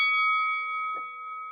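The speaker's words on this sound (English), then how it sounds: "Ring the bell for all of you folks." A bell rings with a bright, sustained metallic tone that holds steady for the whole moment. There is a brief low knock near the middle, and no voices are heard.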